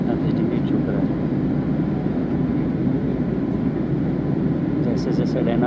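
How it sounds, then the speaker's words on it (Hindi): Steady broadband drone of an airliner cabin in flight while the plane banks at roughly 30 to 35 degrees on a Mumbai to Kolkata route, a constant loud engine roar with no pauses. "हमारा विमान फिर से घुमा हुआ है और लगभग 30-35 डिग्री झुक रहा है।"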